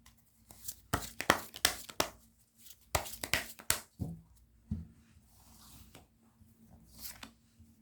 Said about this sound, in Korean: 1번, 2번, 3번 순으로 셔플하고 리딩하겠습니다